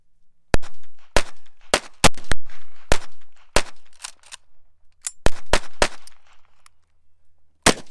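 A small .22 rifle fires at carved Halloween pumpkins, a dozen or so sharp loud cracks spaced irregularly, some in quick pairs, with short silences between.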